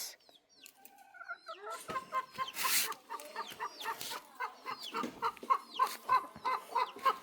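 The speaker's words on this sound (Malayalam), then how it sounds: "ഇതാണ് ഞങ്ങളുടെ കോഴിക്കുട്ടന്മാർ" Several chickens cluck and chirp nearby in a busy, irregular chatter, with short calls overlapping throughout.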